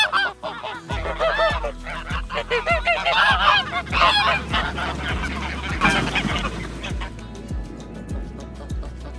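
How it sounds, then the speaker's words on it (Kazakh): A goose honks repeatedly in loud, close, overlapping calls over a steady rhythmic beat, with the honking thinning out toward the end. "Қаз."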